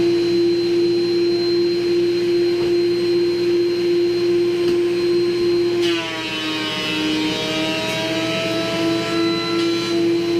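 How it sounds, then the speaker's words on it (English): Wood planer running solid wood boards through for a final pass, a loud steady whine with a strong hum that shifts pitch midway as a board feeds through the cutter, close with no talking. "running them through the planer one more time just to get any little imperfections out of it"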